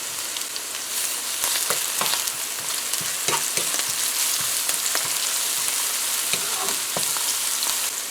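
Pounded garlic and pepper fry in a pot for stewed pork, giving a loud, continuous sizzle with a few clicks of stirring, close by and without talk.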